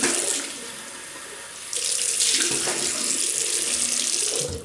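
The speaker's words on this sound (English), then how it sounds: "Rinse that off." Tap water runs steadily into a sink during a wet shave with a 1960 Gillette Fatboy razor, a close, continuous splashing rush that grows louder partway through.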